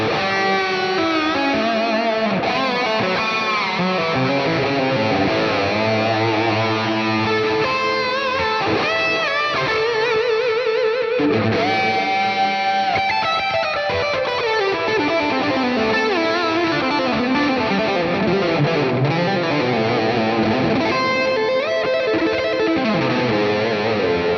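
Electric guitar run through a NUX Amp Academy amp modeler with a tube screamer overdrive engaged, plus delay and plate reverb, playing a continuous sustained, overdriven ambient passage with shimmering echo tails, loud and steady throughout without any voices.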